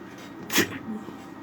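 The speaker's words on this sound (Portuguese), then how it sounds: "Desculpa aí, falar em gripe, eu acabei espirrando." A single sharp sneeze from a man with a cold or allergy, bursting out once near the middle, close and fairly loud, with faint room noise and a little murmur after it.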